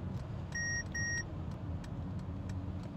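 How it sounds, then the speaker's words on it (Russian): Two short electronic beeps from a car's blind-spot warning sound in quick succession near the start, clear over a steady low rumble of road and engine noise while driving from Manhattan to Brooklyn. "Моя машина мне пикает, говорит, не поворачивай налево, там кто-то есть в этой blind zone"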